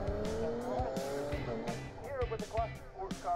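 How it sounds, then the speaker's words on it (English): Race cars, including a TVR Tuscan, launch off the grid at Knockhill circuit with loud engine roar and brief tire squeal, under continuous race commentary. "it's a hometown hero, Stuart Robb, who gets the jump off the front row of the grid in his TVR Tuscan."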